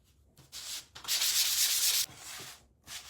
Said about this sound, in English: Now I'm just going to grab out a fine sanding sponge here.